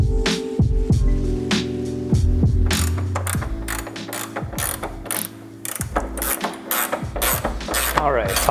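A ratchet clicks in quick bursts while a bolt is tightened on a lower control arm mounting bracket with grade 8 hardware, close and loud, with metallic clanks and brief pauses between runs.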